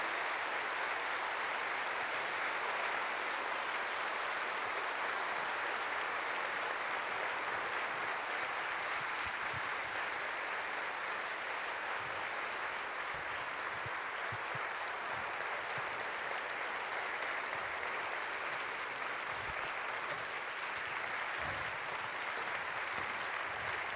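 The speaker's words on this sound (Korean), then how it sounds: "우리 박수로 한번 모셔보도록 하겠습니다" An audience at a church prayer meeting applauds as teachers are welcomed onto the stage, a steady, sustained wash of many hands clapping, heard from a distance and fairly faint throughout.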